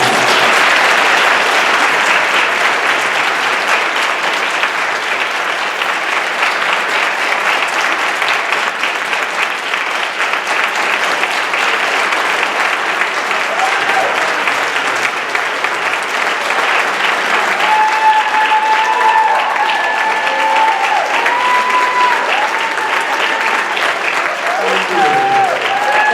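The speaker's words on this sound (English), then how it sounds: "if we could give Christopher Everett a round of applause" A panel-discussion audience gives Christopher Everett sustained, loud applause, dense clapping throughout, with some voices talking and calling out over it.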